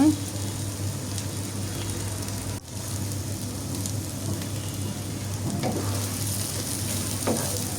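Beef brain frying in oil with half a tablespoon of garam masala powder, a steady dense sizzle with occasional spatula scrapes and a low hum beneath, no talking.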